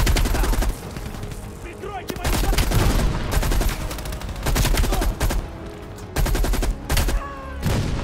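Repeated bursts of machine gun fire in the Call of Duty Black Ops Cold War video game, loud and close. Several separate volleys come in an uneven rhythm, with brief pauses between them.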